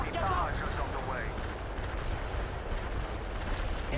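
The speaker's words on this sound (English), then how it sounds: "Barrage is on the way." Artillery barrage in the strategy video game World in Conflict: dense, continuous low rumbling blasts and gunfire fill the whole stretch, with a brief voice-like chirp of battle chatter near the start.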